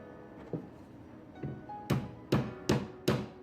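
A hammer strikes a punch to drive the pin out of a 1970s Snap-on 32-tooth ratchet wrench pawl: a few soft taps, then four sharper metallic blows in quick succession, close up.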